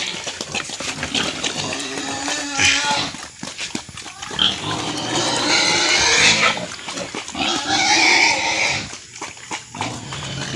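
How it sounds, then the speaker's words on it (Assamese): Pigs on an Assam pig farm eating finisher feed, with loud snuffling, chomping and grunting, plus occasional squeals, close by and continuous, while a person talks over them at times. "গাহৰিৰ পৰা ধুনীয়াকৈ দানাবিলাক খায় চব চপাই"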